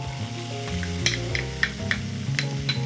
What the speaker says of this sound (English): And saute my minced garlic a bit.